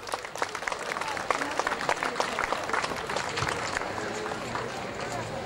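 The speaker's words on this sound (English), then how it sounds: "please welcome with an applause" Audience applause at the opening ceremony of the European Youth Chess Championship welcoming the Croatian chess union president, a steady crowd of hands clapping throughout with a voice speaking over it.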